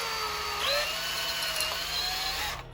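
Power drill boring into turned wood with a 6mm brad point bit, a steady high whine that rises in pitch partway through, then cuts off at the end.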